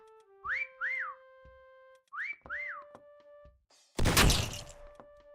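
Loud rising-and-falling whistles in the Meccha Chameleon video game, two pairs of two-note whistle calls, followed by a crashing, shattering burst of game sound effects.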